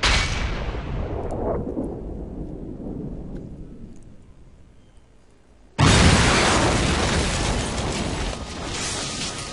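Grenade blasts in Matrix: Path of Neo: a big explosion rumbles and fades away over several seconds, then a second loud, sudden burst erupts and roars on with a long crackling tail.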